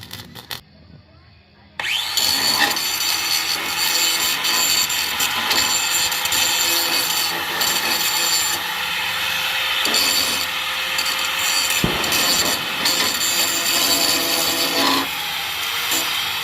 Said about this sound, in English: I just took the grinder there